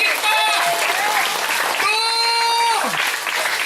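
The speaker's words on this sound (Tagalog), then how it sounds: "yung mga pumapalakpak na malakas" Congregation at a church's first anniversary gathering clapping loudly and continuously, with voices and sustained musical tones rising over the dense applause.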